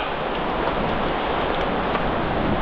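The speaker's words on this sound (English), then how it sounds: "And here comes the rain again." Steady, dense hiss of rain falling continuously on the Bristol Channel shore, loud and close, with no voices over it.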